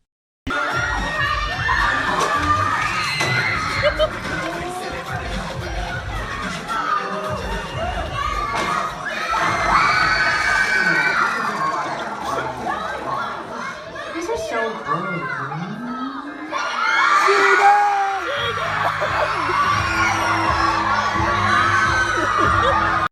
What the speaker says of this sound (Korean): 진우의 등장신에서 남성분들의 환호.